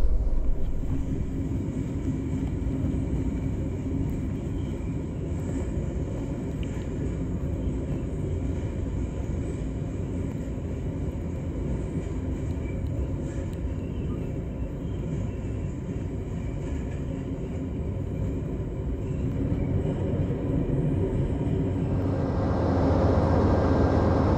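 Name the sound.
train pulling into station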